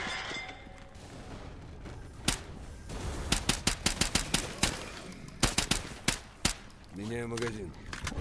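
Gunfire in the video game S.T.A.L.K.E.R. GAMMA: a run of sharp, loud, close shots at uneven intervals over several seconds, with a voice speaking briefly near the end.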